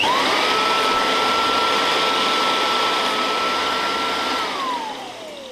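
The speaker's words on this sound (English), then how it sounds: "we've got a stainless steel spoon, and we just turn it on and give that a bit of a buff" A Kirby Classic III Hand Butler buffs a stainless steel spoon, giving a loud, steady high-pitched whirring roar with a sustained motor whine that winds down at the end as the machine is switched off.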